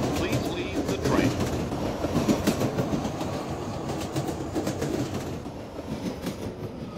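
A subway train arrives at its last stop with a continuous rumble and repeated metallic clicks and squeals, loud and close, gradually easing off near the end.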